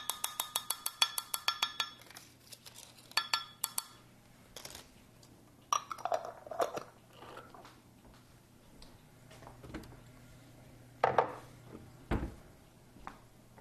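Cheesecake ingredients with vanilla are mixed in a clear measuring cup, producing sharp glassy clinks and ticks in quick bursts. Close and irregular, with quiet gaps between the clusters and no speech.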